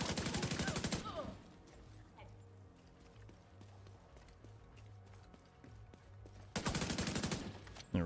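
Automatic gunfire in a video game: loud rapid bursts at the start and again near the end, with quieter in-game sounds between them.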